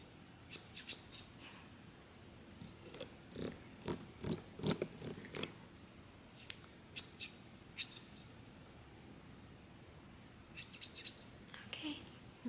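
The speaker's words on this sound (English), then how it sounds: "These are thinning scissors, so they look pretty funky." Thinning scissors cut hair in quick bursts of sharp, crisp snips, close and fairly quiet, with short pauses between clusters.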